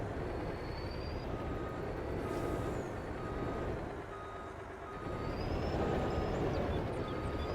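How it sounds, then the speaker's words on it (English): Truck backing a trailer in a forestry farming game, a steady rumbling drive noise with rail-like clatter and faint reversing-style beeps running throughout, fairly loud with no talk. "it might be easier to back this trailer in there"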